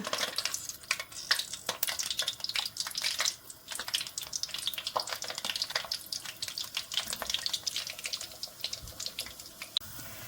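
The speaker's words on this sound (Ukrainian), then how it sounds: "І погляньте, як гарно пузиряться наші пиріжки, будуть пухкими" Pirozhki, soft yeast-free dough pies, bubbling and crackling steadily as they fry in hot oil over moderate heat, a dense continuous fizz with sharp pops, close and fairly quiet, no voices.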